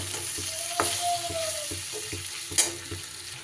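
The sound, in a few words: stirring spice masala in a pan with capsicum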